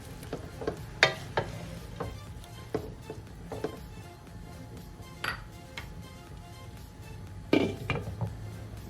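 Carrots sautéing in a covered pan with a faint steady sizzle, broken by scattered light clinks and taps of metal against the pan and lid, fairly quiet and without talk.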